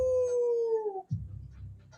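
A single long, wavering howl in imitation of a wolf, a voice copying the animal, slides slowly downward for about a second, then gives way to low rumbling noise.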